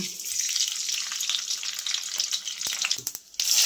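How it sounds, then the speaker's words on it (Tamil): Hot oil sizzles loudly and continuously, with small pops and crackles of seeds spattering close by. "எண்ணெய் காஞ்ச உடனே இப்போ கடுகு போட்டுடலாங்க"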